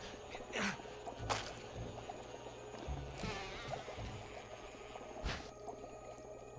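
A bee buzzes steadily in Resident Evil HD, faint and hovering, with brief louder swells as it moves close, against a low ambient background.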